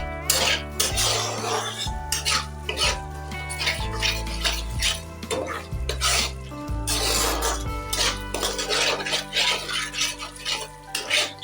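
A spoon stirs paneer butter masala in a pot, scraping and clinking steadily against the metal for several seconds, with background music playing underneath.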